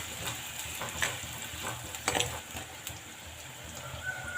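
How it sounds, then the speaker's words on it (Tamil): Onion and green chillies sautéing in a pan while being stirred for a kids' lunch box dish, with a steady low sizzle and occasional scraping stir strokes, close and fairly quiet. "சேர்த்து நல்லா வதக்கி விட்டுக்கலாம்."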